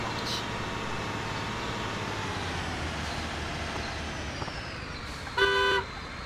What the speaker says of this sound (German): Wie man hupt, weiß ich aber.